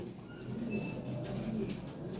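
Low, throaty coos from Lahore pigeons murmur close by in a steady rolling rhythm, with faint background hum and no voices.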